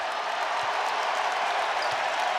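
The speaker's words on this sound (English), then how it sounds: "The crowd's on its feet." An NBA arena crowd at a Detroit Pistons versus Minnesota Timberwolves game roars and applauds in a steady, dense wash of cheering from a large audience, with no clear speech.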